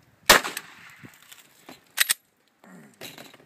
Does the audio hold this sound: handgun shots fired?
yes